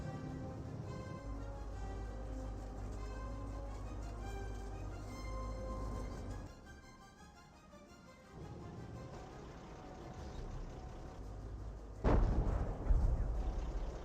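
Heavy artillery rounds fire in Company of Heroes 1 over a steady droning battlefield background, with a sharp, loud blast and rumbling follow-up toward the end.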